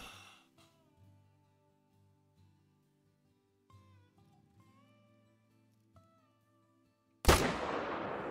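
An M1 Garand rifle fires a single loud, sharp shot at a deer in the hunting game Call of the Wild, cracking out suddenly after a long stretch of quiet, soft tonal ambience and ringing briefly afterward.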